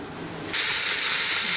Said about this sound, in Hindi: इसमें गोश्त को भी अच्छे तरीके से फ्राई हो रहा है